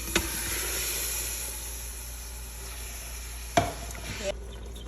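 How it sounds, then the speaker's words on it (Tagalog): Meat dropped into a hot pan for a Filipino-style muqalqal, a steady broad sizzle running throughout with a couple of sharp utensil clinks and scrapes as it is stirred; no talking. "Mainit na siya at ngayon i-add ko na itong meat."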